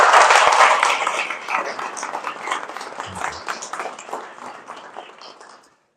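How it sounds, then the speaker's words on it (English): A round of audience applause at a church gathering at St. Paul's, loud at first, then thinning into scattered claps that taper off to silence. "Can we give him another round of applause?"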